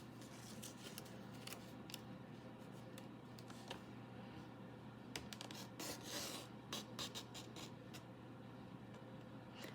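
Scissors cutting cardstock paper for card making, a close run of repeated snips and rasping scrapes at an even pace, with no talking.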